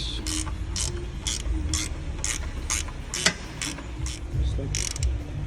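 A ratchet tightens transmission bolts during a Ford Edge engine job, giving repeated bursts of rapid clicking in an uneven rhythm, close and fairly loud, with one sharp metallic knock partway through.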